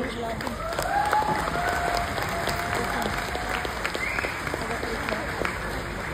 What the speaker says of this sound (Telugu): ఒకసారి ఆయన క్లాప్స్ ఇవ్వండి.